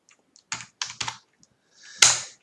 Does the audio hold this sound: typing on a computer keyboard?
yes